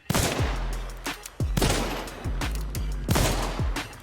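The Uppercut gun in a video game fires a series of heavy, booming shots, roughly six or seven at a slow, even pace, each one loud and close with a short ringing tail.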